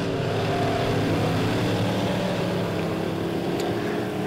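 Midwest Modifieds race cars roar through a heat race at Lebanon Midway Speedway, a steady, dense engine drone filling the track with constant loud noise and no break.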